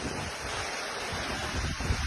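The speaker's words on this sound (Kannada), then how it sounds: "ನೋಡಿ ಸಿಕ್ಕಾಪಟ್ಟೆ ಗಾಳಿ ಇದೆ" Strong wind roars steadily across the microphone during rain at a petrol station, a rough, gusty rush with a deep buffeting rumble that swells toward the end. No voices.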